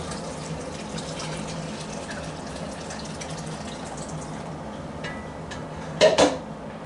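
Tap water runs steadily into a pitcher in a kitchen, a continuous rushing flow with a couple of brief clinks of dishes near the end.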